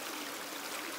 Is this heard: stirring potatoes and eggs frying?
no